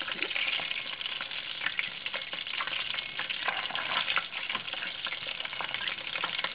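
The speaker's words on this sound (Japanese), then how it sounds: "今揚げてるところですね。" Chicken pieces deep-frying in hot oil, four pieces in the pot, giving a steady, dense crackling sizzle that holds at an even level throughout with no talking.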